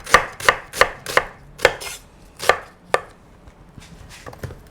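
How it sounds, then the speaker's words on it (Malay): A knife chops onions on a board for a beef short rib curry: about eight sharp, evenly spaced close cuts, then a few softer, fainter strokes, with no talking. "Apa ni kita bolehlah potong bawang lain lah"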